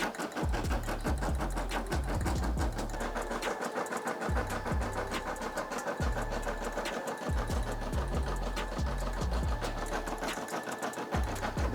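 A Brother SE600 embroidery machine stitches a patch, its rapid needle chatter running steadily and close throughout, with rhythmic low thumps from the carriage moving in bursts.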